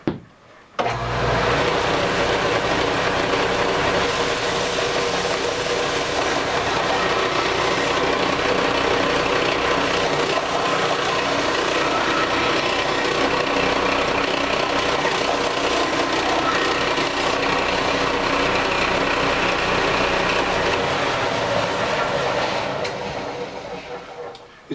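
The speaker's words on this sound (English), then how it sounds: "We'll make a little noise here and I'll show you how it works." An old 6x48 inch belt sander grinds a knife bevel held in a homemade jig, a steady loud whirring and abrasive hiss running continuously with no pauses.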